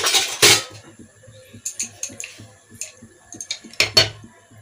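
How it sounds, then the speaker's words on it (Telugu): Peanuts tumble into a hot pan while cooking stuffed brinjal curry, giving two loud rattling bursts at the start and end with lighter clinks and taps of metal utensils in between. "వేడి అయిపోయింది, పల్లీలు వేస్తున్నాను."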